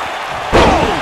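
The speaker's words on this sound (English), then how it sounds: "Oh, what a slam." A wrestler crashes down onto the wrestling ring in a single loud, close slam, a sharp impact with a short resonant rattle that trails off over about half a second.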